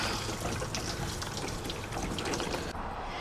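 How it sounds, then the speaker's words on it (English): Water pours onto a potted plant on a porch, making a steady, close, splashing trickle that runs continuously and stops abruptly near the end. "Give it a good water, and then I won't water it for another"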